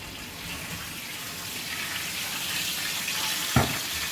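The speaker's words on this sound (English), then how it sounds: "You can hear the sizzle, but that's full of oil." Steady hissing sizzle of hot fat from a roast duck, a continuous bright crackling wash up close, with a single sharp knock near the end.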